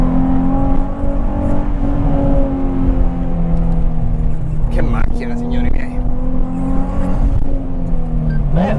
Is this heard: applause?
no